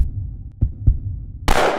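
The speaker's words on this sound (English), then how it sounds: "I can hear a thousand heartbeats waiting for that moment" Two deep, thudding heartbeat pulses sound in quick succession over a low rumble before a sudden loud burst of noise cuts in, a dramatic effect at the starting line of a city marathon in Hyderabad.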